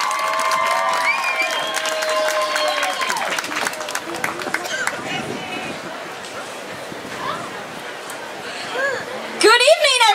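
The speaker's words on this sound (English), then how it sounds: "So a big round of applause please for these children." Audience at a December evening event at the House of Peru claps and cheers for a group of children, a lively crowd ovation with tonal sounds and voices mixed in.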